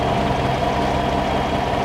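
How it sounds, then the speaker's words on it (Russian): A Cadillac Escalade or Chevrolet Tahoe V8 engine idles after an AFM cylinder-deactivation delete, a loud, close, steady low rumble with a faint irregular tick and no talking. "Прогреем движок, погазуем чуть-чуть"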